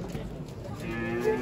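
A cow moos at a livestock market in Batken, a low drawn-out call that rises and swells near its end over the steady murmur of the crowd.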